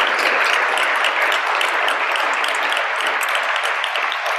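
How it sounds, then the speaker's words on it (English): Audience applause at an evening food rescue awards ceremony, a dense, steady wash of many hands clapping at fairly close range, sustained at even loudness for several seconds without any voices. "everyone give yourself a round of applause"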